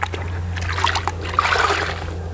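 Water trickles and drips from a wet cloth during a rinseless car wash outdoors in hot weather, with small splashes over a low steady background hum.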